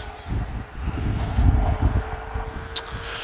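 A radio-controlled warbird model airplane by Arrows flying outdoors, its engine a faint, fluctuating drone that swells and fades at a distance amid wind-like rumble.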